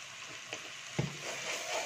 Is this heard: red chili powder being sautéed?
yes